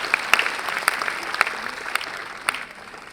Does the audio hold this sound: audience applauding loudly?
yes